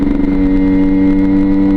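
A Derbi Senda 50cc motorcycle engine revs hard through a fumbled gear shift, a loud, steady, buzzy drone held close up.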